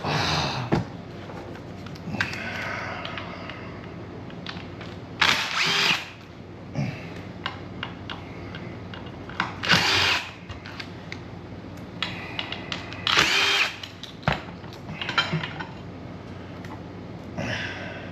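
A power tool removes the derby cover from a Harley-Davidson motorcycle, with loud drill-like bursts around 5–6, 10 and 13 seconds amid quieter mechanical clicks and creaks, close up with no talk.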